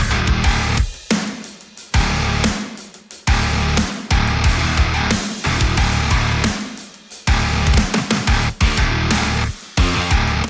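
Programmed bass guitar line for modern metalcore, loud and dense, driving in chugging bursts with sharp stops and gaps between phrases, heard alone with no talking.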